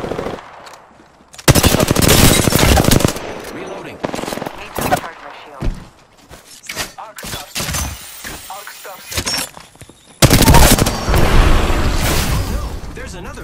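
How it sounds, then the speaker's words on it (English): Gunfire in an Apex Legends ranked match: loud, dense automatic bursts and single shots in several waves, with glassy breaking impacts and a voice talking between them. "I am taking fire, friends"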